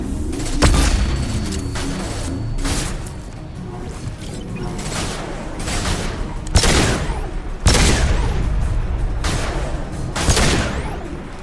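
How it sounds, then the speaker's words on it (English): Heavy weapons fire in Mass Effect 2, a barrage of loud booming blasts and crashing impacts with repeated bursts over about eleven seconds, dense and close, with no voices. "They just fire a rocket launcher right here."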